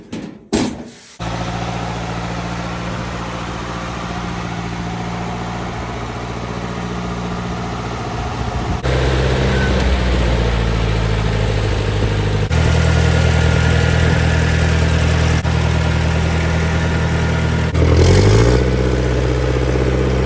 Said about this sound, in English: we are going to try to drive the tractor out of here.